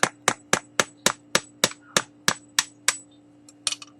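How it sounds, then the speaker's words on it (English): Sharp metallic hammer strikes ring out in a steady rhythm, about a dozen close blows driving a screwdriver into the eyes of a coconut, then a few quicker taps at the end. "Hammer right down into those holes."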